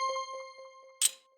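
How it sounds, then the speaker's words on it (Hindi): A doorbell rings with a steady, melodic chime that repeats several times, then a sharp, loud clatter briefly cuts in near the end. "चाचा चौधरी के घर पर घंटी बजती है।"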